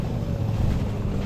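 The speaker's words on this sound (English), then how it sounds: "the wind hits you just right and it's painful" Strong wind roars across a frozen lake during an ice fishing outing, producing a steady, loud buffeting rumble of wind noise against the microphone that lasts the whole moment without a break.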